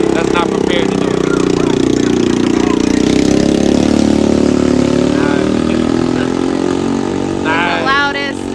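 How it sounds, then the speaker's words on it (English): A moped engine at a street protest in Portland, Oregon roars loudly and steadily close by, a low buzzing drone that holds for several seconds, with voices talking faintly near the end. "the loudest moped I've ever heard in my life."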